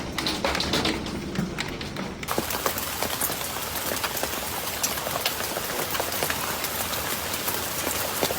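Heavy rain pounds down steadily during a thunderstorm, a dense continuous roar with scattered taps and thuds of drops hitting surfaces, loud and close throughout with no pause.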